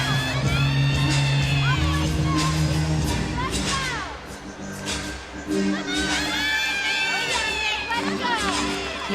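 A crowd and teammates cheer, whoop and yell throughout a women's college gymnastics meet between Missouri and Alabama, steady and loud, with high shouts rising in bursts beneath an announcer's voice.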